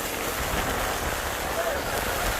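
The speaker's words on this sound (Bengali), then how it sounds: "এই মুহূর্তে ব্যাপক বৃষ্টি হচ্ছে, প্রচণ্ড বাতাস, প্রচণ্ড স্পিডে, প্রচণ্ড ঝড়ো বৃষ্টি হচ্ছে।" Heavy stormy rain at a river launch ghat, a dense, steady hiss of rain pouring down on surfaces, constant and fairly loud with no breaks.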